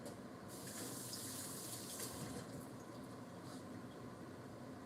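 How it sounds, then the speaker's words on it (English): A hand being rinsed under a running kitchen tap, a steady loud gush of water splashing into a sink throughout, with no talk. "I gotta rinse off my hand."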